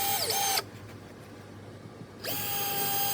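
A power drill drives 1 5/8 inch deck screws through deck boards into a concrete block shed foundation. Two loud whirring bursts come at the start and the end, with a quieter gap between them.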